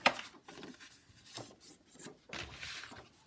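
Paper being scored for a mini album, a series of quiet scraping rubs and strokes in short bursts, close and soft, with no talking.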